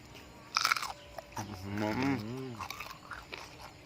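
Crisp bites and crunching into crispy homemade pork belly, close and fairly quiet, with a few sharp crackling bites followed by a stretch of voiced sound and chewing.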